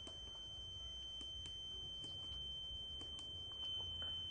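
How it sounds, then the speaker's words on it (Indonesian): Home security alarm buzzer sounding continuously as a steady high tone over a low hum, with faint repeated clicks and no talking. "maka buzzer akan terus berbunyi"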